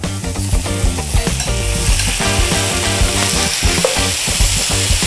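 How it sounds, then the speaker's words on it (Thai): Marinated beef cubes fry in hot oil in a wok with a loud, dense, continuous sizzle and stirring, heard up close and filling the whole stretch without talk. "ใส่น้ำมันลงไปครับ ใส่เนื้อของเราลงไปครับ"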